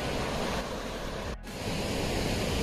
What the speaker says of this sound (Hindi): पानी की आवाज आपको आ ही रही होगी नेचुरल पानी की आवाज।